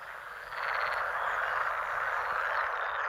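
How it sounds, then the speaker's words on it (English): A chorus of male pool frogs croaks in a wetland, rising after a softer start into a dense, continuous, rattling drone of many overlapping calls at close to moderate range. "The croaking of male pool frogs resounds around the area."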